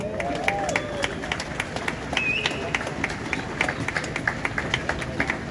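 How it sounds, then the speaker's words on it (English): A rally crowd in Hyde Park, Sydney, marching for the train workers, claps for the ETU union negotiating team. Dense, steady outdoor applause runs throughout, with many hands close by and a few sharper claps standing out. "Give them a round of applause."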